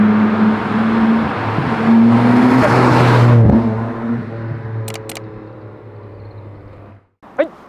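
A Nissan Skyline with an RB26DETT engine fitted with an aftermarket exhaust muffler idles and revs nearby, a loud droning burble rising and then settling, followed by a few brief clicks and a short bump.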